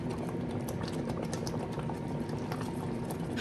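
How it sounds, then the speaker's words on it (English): Soup simmers gently in a covered pot on the stove, a quiet continuous bubbling and hissing with faint irregular pops and no voices. "Just cover it, allow it to slowly steam for 10 minutes."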